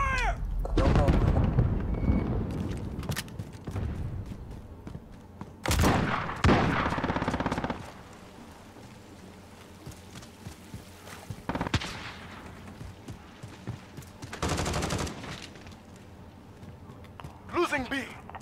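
Bursts of rapid gunfire in a Modern Warfare match on the Hovec Sawmill map, loud clustered volleys early on, around six seconds and again near fifteen seconds, with quieter shots and game voice callouts between them.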